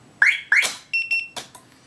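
A KGB FX-7 car alarm answers the unlock command with two short chirps followed by a few brief electronic beeps, loud and close, with no talk over it.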